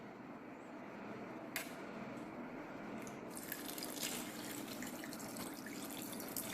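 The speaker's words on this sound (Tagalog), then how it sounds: "Tapos maglalagay tayo ng tubig." Water is poured into a cooking pot while mindunggo is being prepared, a faint, steady trickle and splash with a couple of brighter drips.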